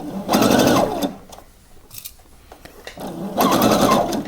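A sewing machine stitches pleats on a blouse in two close, loud bursts of rapid rhythmic whirring, with a quieter pause between them where the fabric is adjusted, and no talking.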